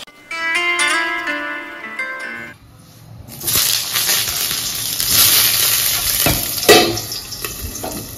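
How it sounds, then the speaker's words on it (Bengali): Eggplant frying in a pan in a home kitchen, first preceded by a tonal ringing passage, then a sudden bright, hissing sizzle that rises and crackles steadily with occasional louder pops. "বেগুনটাকে ভাজতে দিলাম"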